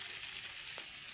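String beans (sitaw) sautéing for adobo in a pan, giving a steady soft hiss of frying with a faint click partway through, heard alone with no talk.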